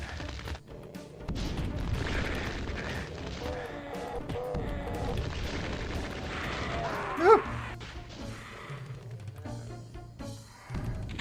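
A rocket launcher explosion in a video game, a busy stretch of booms and crashes with one sharp, loud blast standing out near the middle. Mixed game noise continues around it, with no voices clear.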